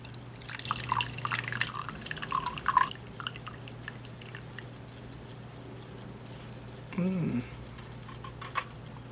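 Brewed tea drips and trickles softly at close range, followed by a short pour splashing into a cup, all quiet over a low steady hum.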